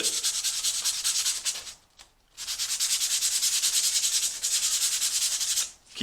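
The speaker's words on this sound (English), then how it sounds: "you'll need to either carry a piece of Scotch-Brite pad or a small piece of sandpaper with" Sandpaper roughs up the surface of a turkey friction call in two long, steady bursts of loud, close scratchy rubbing, separated by a short pause and ending abruptly, with no talking.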